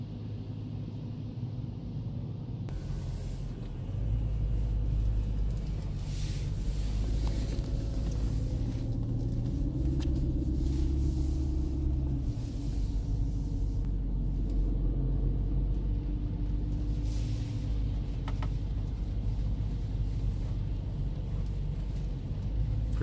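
A 2010 BMW M3 E93 convertible idles in winter, its engine giving a steady low rumble that swells slightly partway through and then holds, with no talking.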